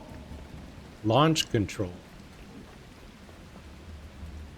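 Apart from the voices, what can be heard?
pouring rain in video game The Last Caretaker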